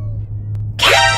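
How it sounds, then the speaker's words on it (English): A single loud video game cat meow rises suddenly near the end, over a low steady hum. "I hear a cat. Where's that cat?"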